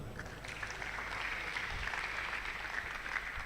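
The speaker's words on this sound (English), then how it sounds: "round of applause, please." Audience applause at a Microsoft Learn event, a soft, steady patter of clapping from a small crowd, fairly faint and continuous throughout with no talk.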